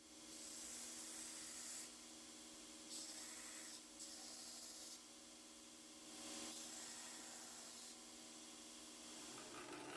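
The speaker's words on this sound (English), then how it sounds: "Going to grind them clean to see if they're the right pieces first, though." Scrap ivory pieces are ground clean on a grinder, producing a continuous abrasive hiss and rubbing that swells and eases in short passes over a steady motor hum, with no talking.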